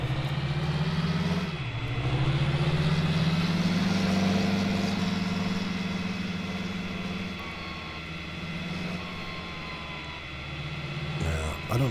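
A tractor engine in a farming game drones steadily at low pitch while driving over potholes, rising briefly and dipping as it bounces along, with some speech under it.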